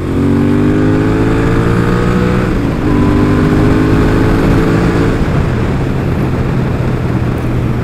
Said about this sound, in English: So the bike came with great sounding pipes.